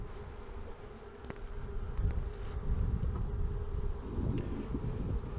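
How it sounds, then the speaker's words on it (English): Honey bees buzz steadily and densely during a hive cutout from a front porch column, a close continuous drone that swells slightly louder partway through with no talking. "Pretty good number of bees in the box here."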